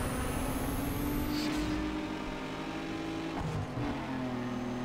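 AI race cars in Need for Speed Underground 2 roaring past on the final lap of a race, engines droning steadily with rising and falling pitch as they overtake, loud and close, with no talking.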